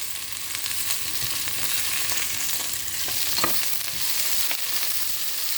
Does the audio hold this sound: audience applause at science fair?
no